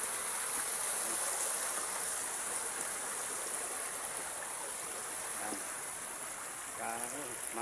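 Forest stream rushing steadily nearby in a Philippine woodland while someone walks through the water carrying firewood. A continuous, loud watery hiss fills the scene, with faint voices briefly in the background.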